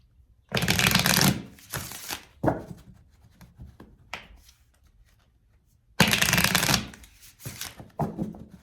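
Tarot cards are shuffled twice in quick riffling bursts, each a dense papery rush about a second long, with soft handling and taps between.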